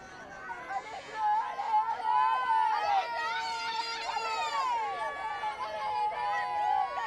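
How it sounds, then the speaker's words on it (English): Loud, sustained cheering and shrill shouting from Dutch supporters at a girls' U17 football final between the Netherlands and France, with high whistling voices and a commentator talking over the crowd. "And Dutch cheering section really getting loud now"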